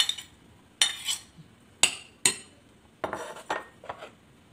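Chicken potato salad with carrots is stirred in a bowl, giving a series of distinct utensil clinks and scrapes against the bowl, spaced irregularly and close by.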